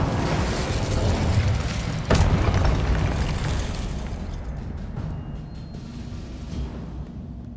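Incendio fire spell cast in Hogwarts Legacy, a sharp blast with a crackling, roaring burst near the two-second mark over a heavy rumbling bed that slowly dies away.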